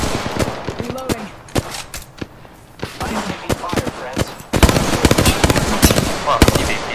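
Gunfire in Apex Legends, dense rapid shots and automatic bursts crackling close and loud, growing heavier in the second half, with a voice briefly talking in between.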